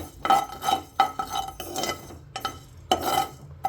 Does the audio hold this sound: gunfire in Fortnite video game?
no